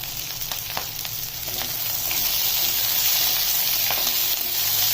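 Chopped onion and capsicum frying in a pan, a steady close sizzle that swells louder partway through, with a few faint stirring clicks and no talk.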